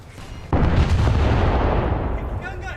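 A single loud, close naval gun blast rings out in a warship video game, aimed at the cruiser Eugen, its deep rumble decaying slowly before a brief voice is heard at the end.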